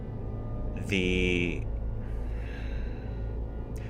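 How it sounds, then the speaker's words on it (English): Heavy breathing, a drawn-out gasping inhale and a raspy exhale, rises briefly over a steady background hum during a tabletop role-playing session. "Whoever is doing the heavy breathing, it does not sound like your mom."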